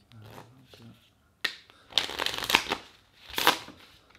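A deck of playing cards is shuffled for a card trick in a few crisp riffling bursts, preceded by a moment of quiet handling. The shuffling sits close and fairly loud, with no talk over it.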